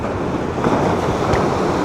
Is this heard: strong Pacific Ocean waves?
yes